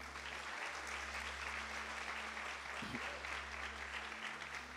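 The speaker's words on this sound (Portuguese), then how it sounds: "Dá um aplauso a Jesus." A church congregation applauds during a sermon, a steady, even wash of clapping held for several seconds at moderate distance, with a low hum running underneath.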